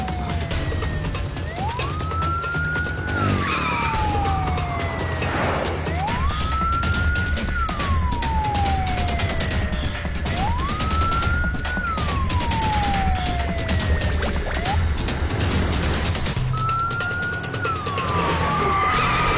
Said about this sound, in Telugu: అంబులెన్స్ అడ్డగించండి.